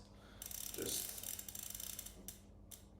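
Metal hex keys work the end caps of a rear bicycle hub on an FSA Vision Trimax 30 Disc wheel, giving quiet close clicking and ratcheting over about three seconds with faint mechanical rattles.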